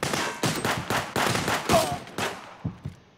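Rapid bursts of gunfire in the video game Contraband Police, a dozen or so sharp shots in quick uneven succession, loud and close, thinning to a few isolated shots at the end.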